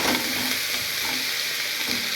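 Coriander leaves with stems fry and get stirred in a pan for restaurant-style shahi matar paneer, giving a steady close sizzle with soft scraping strokes of the spoon throughout.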